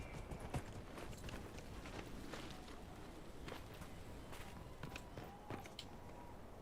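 Steady hoofbeats of a horse moving at a walk in the video game Dragon Age: Inquisition, a continuous clip-clop over a constant background noise.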